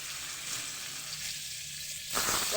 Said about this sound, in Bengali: আমি তেলটা যে গরম হচ্ছিলো ওইটার মধ্যে আমি পনিরগুলো দিয়ে দেবো